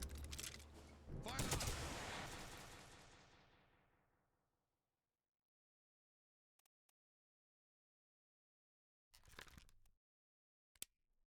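A firing squad's rifle volley in the Return of the Obra Dinn video game: a loud, crashing blast that rings out and slowly fades over several seconds, followed by silence and a few faint later sounds.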